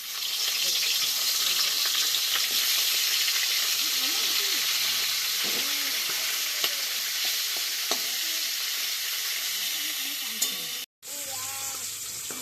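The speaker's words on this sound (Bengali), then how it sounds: "তেলটা গরম হয়ে গেছে, এবার আমি মাছের মাথাগুলো ভেজে নেব।" Hilsa fish heads frying in hot mustard oil in a kadai give a loud, continuous sizzle and crackle with a brief cut near the end. Faint voices murmur underneath.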